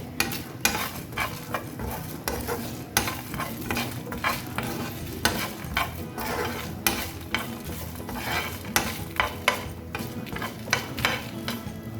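Masala for dahi baray roasts in a pan, giving a continuous low sizzle broken by frequent scraping and clinking strokes of a spoon against the pan.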